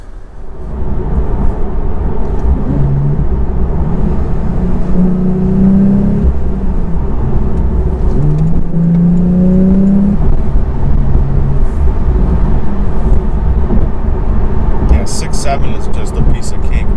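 A Porsche Carrera T with a manual gearbox and a new shift knob drives along, its engine droning loud and close from inside the cabin as revs rise and fall through gear changes.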